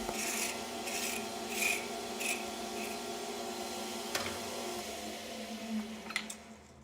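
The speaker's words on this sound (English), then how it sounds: "I like using a rasp to blend the shapes and then following with a file and sandpaper." A rasp filing and blending the shape of a wooden handle for a damascus woodworking chisel, giving a steady rough rasping and rubbing close by, with a few sharper scraping bursts and a brief click near the end.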